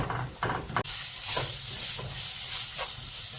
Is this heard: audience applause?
no